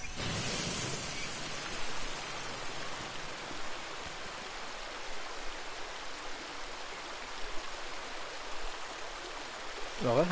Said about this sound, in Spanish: Apagamos las llamas con el agua.